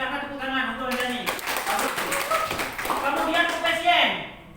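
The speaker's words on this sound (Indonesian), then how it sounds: "silakan tepuk tangan untuk Anda nih" A classroom of students clapping for a classmate, a burst of scattered, fairly close applause lasting a few seconds with voices talking over it.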